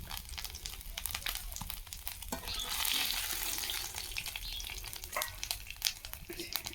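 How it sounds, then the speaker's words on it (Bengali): Cumin seeds fry in fish oil in a village kitchen, giving a soft, steady sizzle with scattered small crackles and occasional stirring clicks. The sound stays fairly faint and close, with no talking. "মাছের তেলই জিরাটি দিয়ে দিলাম।"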